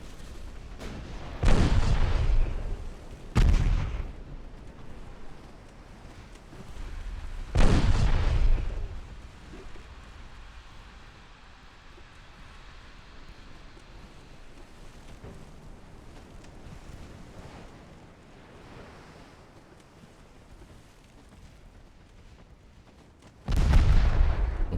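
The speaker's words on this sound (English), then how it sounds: "Three torpedoes hit." Torpedo hits exploding against warships in a 1918 naval battle video game: four heavy booming blasts, two close together early, one in the middle and one at the end, with a low rumbling wash of sea and wind between them.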